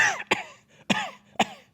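A voice imitates a woman coughing and hacking, producing three harsh, close cough bursts spaced about half a second apart with raspy breathy tails between them.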